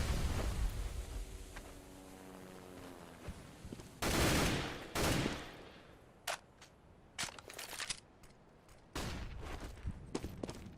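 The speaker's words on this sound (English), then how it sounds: "Whoa, barrage of nades there." Grenade explosions and gunfire during a professional Counter-Strike match, several loud broadband blasts arriving in quick succession with sharp shots scattered between them, no talk.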